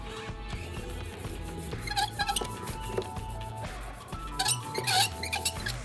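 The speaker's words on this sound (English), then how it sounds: "I didn't cut the sound out so you could hear the squeaking of the brayers." Printmaking brayers rolling through ink, squeaking in short, high, repeated bursts over a busy background of handling noise, with the squeaks growing louder and more frequent toward the end.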